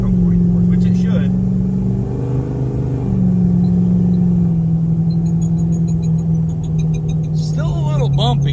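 A lifted truck on 44-inch tires cruises with a steady, loud low engine and road rumble throughout, someone talking over it.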